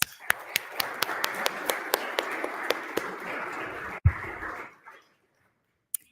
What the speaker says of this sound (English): let's give one more big round of applause for all of our team finalists